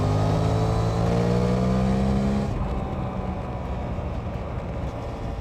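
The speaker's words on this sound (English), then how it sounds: "You've got a decent engine note and a nice sound coming from it." Suzuki GSX-8S motorcycle engine revving loudly up close, a rising engine tone that cuts off midway into a rougher, broadband rumble as it continues running, with no talking.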